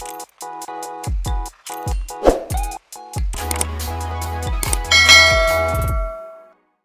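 A rapid run of bright chiming bell tones, struck one after another and building into an overlapping, ringing cascade that fades out at the end.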